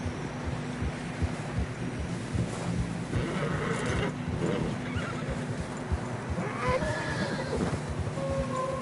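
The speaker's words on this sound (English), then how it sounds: "Horses are getting tired." Horses in snowy terrain in Red Dead Redemption 2, steady clip-clop of hooves walking close by with a couple of whinnies and neighs, over a windy rushing background, no speech.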